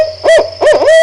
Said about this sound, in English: if you hear an owl that sounds like it's saying, "Who cooks for you? Who cooks for you all?" That is the barred owl.